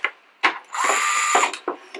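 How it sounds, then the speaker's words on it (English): A small electric screwdriver drives number 4 screws into the battery pack mounting holes, giving a close whirring run of under a second between short ratcheting clicks and handling noises. "we fasten into the 2 battery pack mounting holes"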